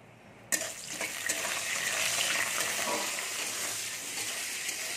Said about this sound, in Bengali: আমি এবারে বড়িগুলো ভেজে নিচ্ছি।